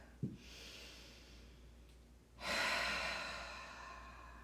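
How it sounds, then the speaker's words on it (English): A deep breath for a yoga practice with the knees splayed and arms down: a short sharp intake, a quiet pause, then a long airy exhale through the mouth that fades slowly. It is close and soft, with no talk. "Take a nice inhale here and exhale it out your mouth."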